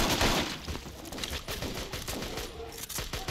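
Grenade launcher fire in the action game Total Overdose: dense, rapid bursts of loud blasts and gunfire crowd together in a chaotic barrage, with no talking over it.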